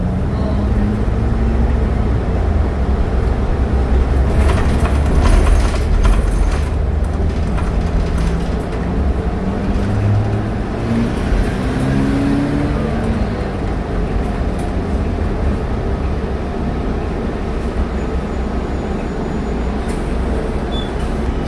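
Inside a 2014 New Flyer XD40 city bus on a route ride, a low engine rumble and road noise run continuously, with faint chatter and rattles mixed in.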